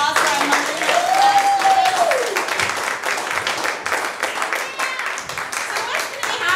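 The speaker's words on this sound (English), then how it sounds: "Everybody, round of applause for our Monday night class." Audience at an improv class show breaks into sustained applause and clapping, with voices and cheering mixed in throughout.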